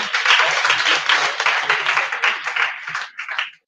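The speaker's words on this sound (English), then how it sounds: "Can you give yourself a round of applause?" An audience at a girls' robotics workshop claps and applauds the host, a dense, steady burst of many hands at close range that thins out and stops toward the end.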